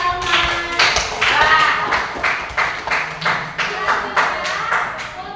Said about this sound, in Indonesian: Oke, tepuk tangan dulu buat Salman.